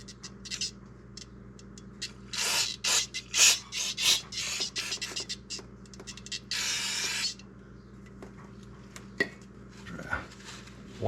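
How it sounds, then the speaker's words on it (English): Cleaner sprayed in short hissing bursts and wiped with a rag around the rear main seal area of a 1993 Ford F150 engine, close scrubbing and rubbing with scattered clinks, no one speaking. "Spray a little more of this in there."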